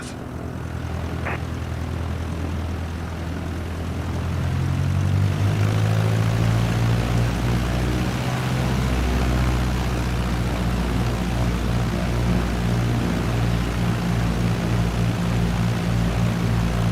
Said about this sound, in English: Let's position the plane for takeoff.